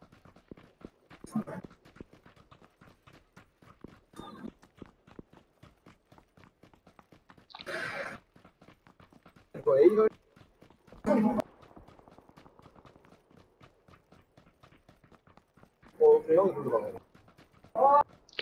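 Footsteps in the battle royale game PUBG, a quick regular patter of light steps running through the whole stretch, close and moderately loud, with several short bursts of speech over them.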